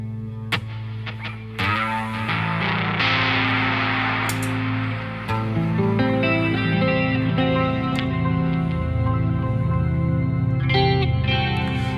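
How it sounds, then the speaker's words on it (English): Electric guitar played through a Dream Spring reverb pedal, struck chords and single notes ringing out with a wet, washy tail that blurs each attack into the next. "So I typically stack a little bit of the Dream Spring reverb on here."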